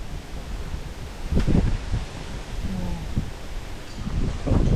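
Strong wind buffets a mountain campsite in Chonburi, a steady broadband roar with louder gusts that sound like rustling and flapping gear, close to the microphone and without any talk.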